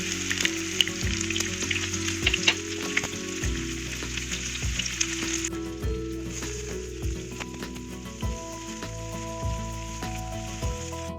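Whole cumin seeds crackling in hot oil while cooking a tarka, a bright, steady sizzle with scattered pops that thins out partway through, heard alone at close range.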